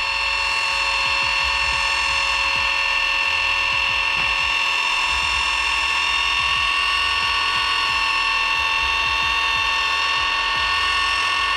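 A car polishing machine runs with polishing paste, giving a loud steady high-pitched mechanical whine with a rapid low ticking rattle underneath, close and continuous throughout.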